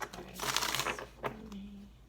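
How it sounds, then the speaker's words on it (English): Tarot cards being shuffled by hand, a quick run of papery riffling and tapping bursts, moderately close and fairly quiet, with a short pause before a final softer shuffle. "This will be our last shuffle."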